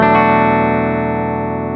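Clean electric guitar chord with Kinman P90-style noiseless pickups through the clean channel of a Laney VH100R amp, ringing out loud and sustained, slowly decaying without any hum.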